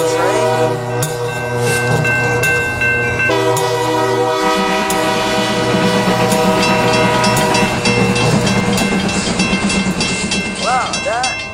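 An electric train in a video game sounds a sustained horn and rumbles past a level crossing, a continuous loud rolling drone with shifting pitched tones and faint chiming near the end.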